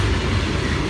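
FEC train 206 rolling past at Stuart, a loud, close, continuous roar of wheels and rail noise with a steady clattering texture and no talk.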